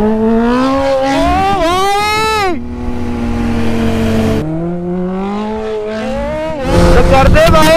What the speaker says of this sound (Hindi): तो करते भाई drag race R15 versus Hayabusa